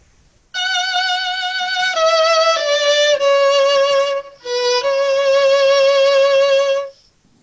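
An orchestra plays the opening of a slow final movement: a single lyrical line of long held notes stepping slowly downward, broken by a brief pause. It is clear and fairly loud, with no voices.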